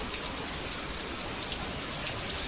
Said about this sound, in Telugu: బయటకు చూడండి, వర్షం పిచ్చగా వచ్చేస్తుందండి